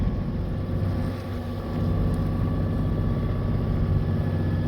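The engine of a sailing boat runs steadily while it motors along the coast from Eastbourne to Brighton, a constant low throbbing drone mixed with wind and water noise, with no voices.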